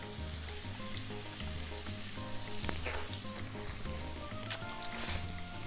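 Garlic and chopped red pepper stir-fried in a pan for prawn linguine, a steady close sizzle and frying hiss with light scraping, over faint background music and no speech.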